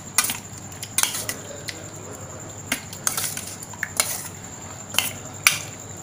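A spoon stirs chicken liver with ginger paste and vinegar in a bowl, giving sharp metallic clinks and scrapes at irregular intervals over a soft wet background, with no talking.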